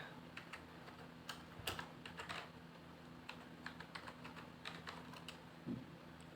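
Keys clatter in quick irregular bursts as text is typed on a computer keyboard for the CorelDraw text tool, close and fairly quiet over a low steady hum, with no talking.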